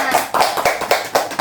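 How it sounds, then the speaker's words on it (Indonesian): A group of children clap their hands together in a quick, fairly even burst of about six sharp claps, close and loud, indoors. "Tepuk tangan dulu semuanya."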